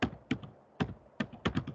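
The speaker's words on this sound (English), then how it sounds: "one by one, I'll be typing." Fast computer keyboard typing in a lecture setting, with distinct clicky keystrokes landing in short irregular bursts, close and clear with no talk over it.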